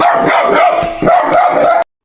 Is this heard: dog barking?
yes